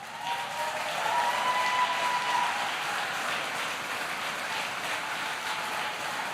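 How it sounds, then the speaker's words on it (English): An audience at a presidential event applauds Alabama Lockheed Martin workers, steady sustained clapping that swells briefly and holds evenly for several seconds, with no one speaking over it. "They deserve a round of applause."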